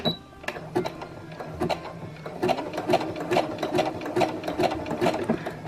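A domestic sewing machine stitches backwards along elastic for a bra, giving a steady, fast mechanical clatter of needle strokes. It starts slower and builds to an even rhythm, close and alone.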